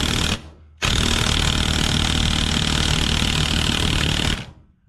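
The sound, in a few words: Porter Cable cordless impact wrench driving a bolt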